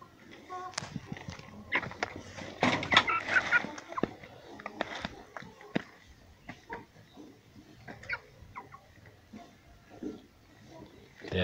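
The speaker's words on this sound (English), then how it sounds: "And see chickens are picking." Poultry pecking at maggots raised on poultry droppings, with soft clucks and scattered pecks and scuffles nearby, a busier burst of clucking early on, and a voice talking faintly at times.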